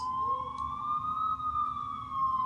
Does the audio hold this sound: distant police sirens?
yes